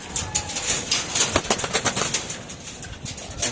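A racing pigeon returning to its loft after its first toss, with soft cooing and bursts of wing flapping close by, in an outdoor setting with rustling background noise.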